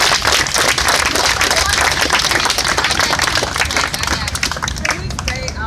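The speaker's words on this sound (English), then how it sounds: "give a round of applause for yourself for this." Crowd clapping and cheering outdoors at a Black Lives Matter protest facing Milwaukee police, sustained and loud with voices shouting over the applause.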